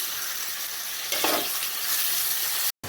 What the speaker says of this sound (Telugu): ఇప్పుడు కోసి పెట్టుకున్న టమాటా ముక్కలు వేస్తున్నాను